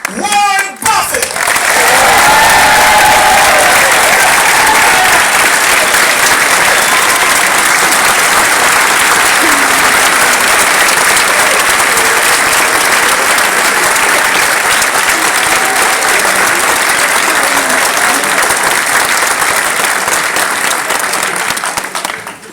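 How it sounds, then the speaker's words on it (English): A large audience applauds Warren Buffett at a Goldman Sachs event, loud, sustained clapping that swells quickly and continues steadily for over twenty seconds. "Please join me in a round of applause for the great Warren Buffett."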